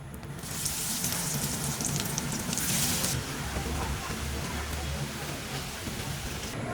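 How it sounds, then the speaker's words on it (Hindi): Chicken bread rolls fry in hot oil with a steady, close sizzling hiss that swells loudly for a few seconds and then settles into a softer continuous bubbling. "इसी तरह से बाकी हम सभी को फ्राई कर लेते हैं"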